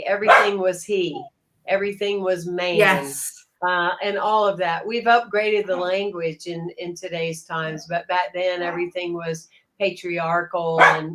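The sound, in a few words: dog barking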